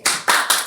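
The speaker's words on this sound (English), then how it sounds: "We never clap. We never clap. Clap outside." Three sharp, evenly spaced hand claps in quick succession, close and loud, with nothing else around them.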